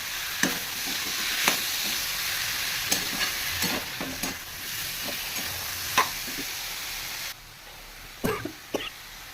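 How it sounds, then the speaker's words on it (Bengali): Banana flower and spice paste sauté in a pan with a bright sizzle, punctuated by repeated sharp spoon scrapes and clacks against the pan, close and fairly loud; the sizzle drops away near the end before a few final knocks. "কষিয়ে নেবো মশলাটা, তারপর একটু জল দেবো"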